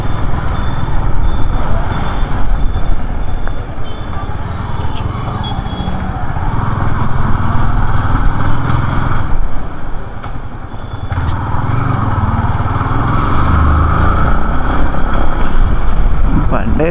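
A motorcycle with reduced top speed and occasional engine trouble rides through town streets near Vasavi Chowk in Gudivada, its engine a steady close drone mixed with wind buffeting on the microphone.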